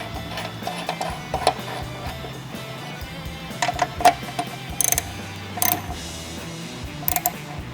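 A ratchet tightens a screw on a Harley-Davidson Fat Boy sissybar mount, giving quiet close ticking and clicking in irregular runs with a few sharper metallic clacks over a low background hum.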